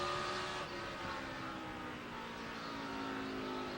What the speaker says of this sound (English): Fast cars coming.